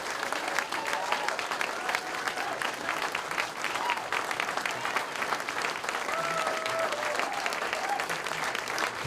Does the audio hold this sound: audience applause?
yes